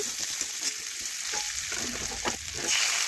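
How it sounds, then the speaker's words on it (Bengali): Chopped onion sizzles steadily in hot oil in a home kitchen, with scraping stirs and soft clicks breaking through a continuous close, bright crackle; no one speaks. "এখন তেলের সাথে একটু ভেজে নেব এই দেখুন এইভাবে নাড়াচাড়া করে পেঁয়াজ একটু নরম হয়ে যাওয়া পর্যন্ত আমি ভেজে নিচ্ছি"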